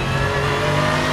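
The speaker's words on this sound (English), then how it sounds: "now the engine really releases" A Pagani Zonda R racing on a track holds a loud, steady engine note under hard throttle, with dense harmonic roar and no voices.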